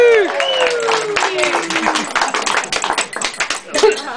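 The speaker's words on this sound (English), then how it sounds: "so we'll give them a little clap" Guests at someone's 40th birthday party applaud the three waitresses, a burst of dense clapping and scattered taps that swells and thins over a few seconds, with voices and crowd chatter mixed in.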